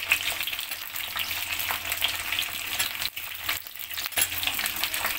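Coarsely chopped onions frying in hot oil in a pan, a loud steady crackling sizzle with occasional stirring clatter, heard alone without voices.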